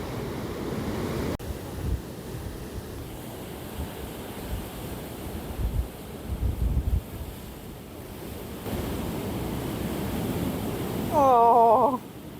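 Ocean waves and wind at Ceningan, Bali roar as a continuous loud wash of surf with heavy wind buffeting the microphone, swelling and easing throughout, with a brief chirping sound near the end.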